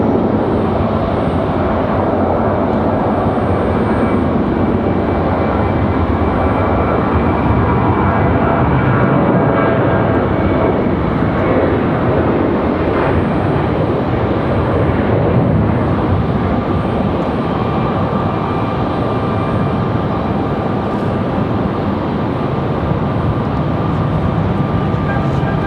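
Delta 1097 airliner departing Raleigh-Durham airport for Atlanta: loud, sustained jet engine roar that holds steady for the whole stretch, broad and continuous with no clear voices.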